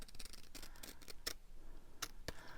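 Scissors snip paper for a junk journal page in a few quiet, separate clicks and crisp cuts with brief pauses between them and no voices.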